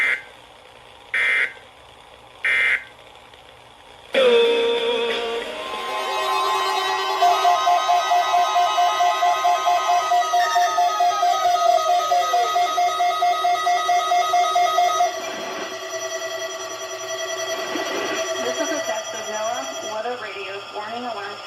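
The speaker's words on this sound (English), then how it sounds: "The attention signals you just heard will automatically activate special receivers" Emergency Alert System attention signal: several short electronic header bursts, then a long, steady two-tone alarm for about ten seconds, followed by a synthetic spoken announcement.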